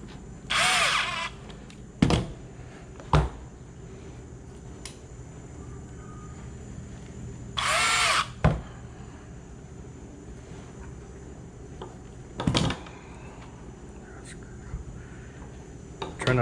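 A power drill drives end cap set screws on a Towmate TM22G marker light in several short whirring bursts, two longer runs and a few quick blips, spaced apart by quiet pauses.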